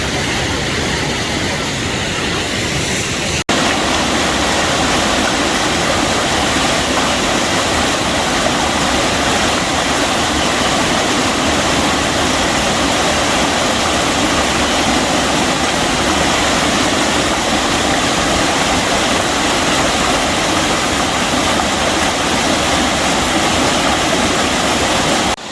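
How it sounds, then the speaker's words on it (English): A waterfall on the Ozark Highlands Trail pours from a rock crack, a loud, constant roaring rush of water close by that fills the whole stretch with no speech. "Another beautiful waterfall."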